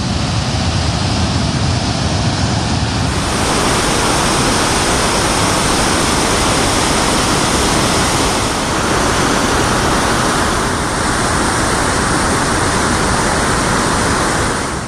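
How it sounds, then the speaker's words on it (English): Steady, loud roar of Victoria Falls heard up close from the Zimbabwe side, a dense continuous rush of water that fills the whole stretch without letup. "look out at the waterfall from this angle"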